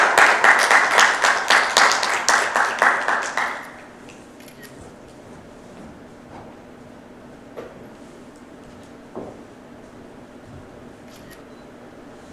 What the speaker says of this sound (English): Let's have them in the stage with a big round of applause